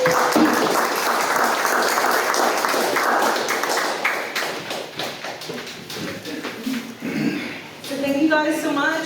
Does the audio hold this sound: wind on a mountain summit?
no